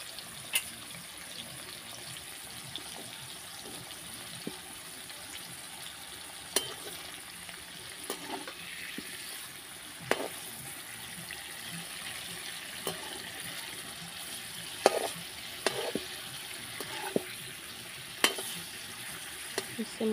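Prawns frying in a pan, a steady soft sizzle through the whole stretch with occasional sharp clicks and utensil taps, close and fairly quiet, no voices.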